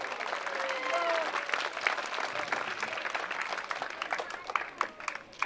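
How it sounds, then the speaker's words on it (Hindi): Audience applause at a poetry recital during a martyrs' memorial gathering in Tamnar, Raigarh, a dense steady clapping from a village crowd that carries on for several seconds with a few louder claps near the end. "मुझे तालियों से आशीष दे देना"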